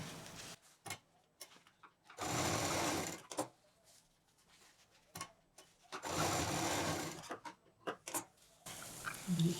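A sewing machine stitches patchwork bag pieces together in two distinct bursts of rapid mechanical chatter, with quiet pauses and small handling clicks between the runs.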